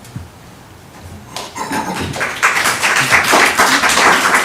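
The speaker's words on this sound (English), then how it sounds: "I'm going to clap too" Applause at a town board meeting, starting quietly with a few taps, then swelling after a second into steady, fairly loud clapping from several people in the room.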